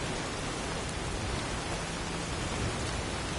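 Steady rain falls in the video game Skyrim, a broad even hiss of dense drops that holds constant and fairly loud, with no voices over it.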